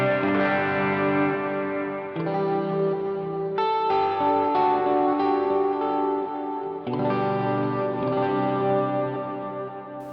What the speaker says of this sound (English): we'll do Lark, mid-range boost, and then with the reverb from the Revelation version 2